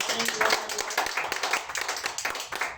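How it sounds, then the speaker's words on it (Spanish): Church congregation clapping during a Spanish-language sermon, a brief burst of scattered hand claps with uneven rhythm, fairly faint and slightly distant. "Dale un aplauso a tu Dios."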